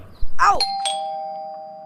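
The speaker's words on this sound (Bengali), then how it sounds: "দেখ তো দরজায় কে কলিং বেল বাজায়" A cartoon doorbell chimes once with a bright two-tone ding-dong, the second tone ringing on and fading slowly, loud and close after a brief rustle.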